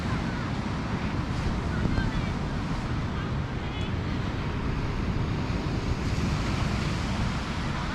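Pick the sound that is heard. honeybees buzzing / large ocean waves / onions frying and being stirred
large ocean waves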